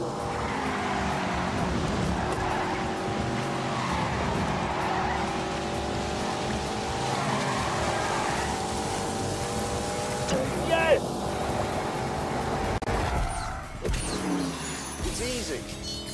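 A BMW in The Grand Tour Game video game drives steadily with a constant engine drone that shifts pitch and a short bump partway, loud and continuous with no talk.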